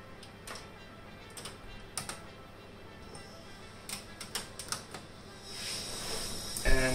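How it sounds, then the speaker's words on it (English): Keys clatter on a computer keyboard during a testbench PC rebuild, a scattered run of sharp clicks in irregular bursts, ending with a louder rustle and clunk. "keyboard."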